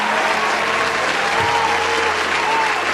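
Dense, steady audience applause at an Urdu poetry mushaira in Bangalore, a continuous wash of clapping from a large crowd throughout the short stretch.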